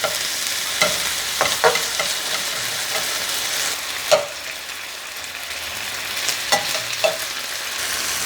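Ground beef fries in a pan with a steady bright sizzle while a utensil scrapes and taps against the pan at irregular intervals, close and alone.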